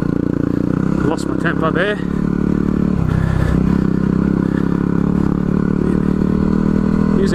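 Under a man's speech, a motorcycle engine strains and revs loudly, close by, as the bike struggles up a steep hill with little traction, with clattering and scraping mixed in.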